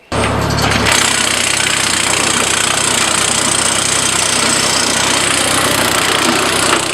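A WC8-A hydraulic wood chipper with a self-priming system runs steadily at close range, its loud, continuous engine drone and mechanical rattle holding constant after a brief startup burst, with no talking.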